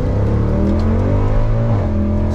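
A Mercedes C63 AMG W204 accelerates hard with traction control off, its engine note climbing steadily through the rev range in one loud continuous pull heard from inside the car.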